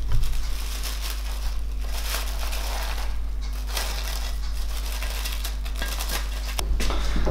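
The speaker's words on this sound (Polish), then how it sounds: "I pozostawiamy na kolejną godzinę przykryte folią." Plastic film crinkles and rustles as it is drawn over rising bread dough for a rustic country loaf, with steady close crackling throughout and a low hum beneath.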